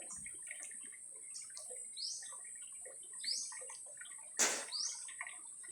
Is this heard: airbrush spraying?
no